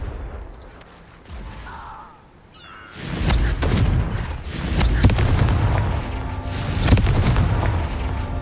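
A Confringo fire spell from the Hogwarts Legacy video game goes off in a sudden loud blast after a quieter stretch, then rumbles on with heavy, booming low crackle and repeated impact surges.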